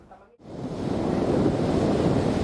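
Ocean surf beside a ferry crossing, a broad steady roar of breaking waves and wind that swells in after a brief quiet start, close and loud, with no voices.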